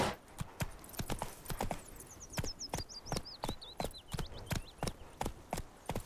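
Roach, the horse in the video game Witcher 3, trots along with quick, rhythmic hoof clip-clops, close and clear, with a faint bird-like chirping trill running through the middle.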